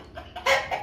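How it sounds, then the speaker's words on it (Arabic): Older rooster giving a short burst of clucks, two or three quick throaty notes within under a second, close and clear. "لاحظوا وركزوا معنا الفرق بين هذا الديك"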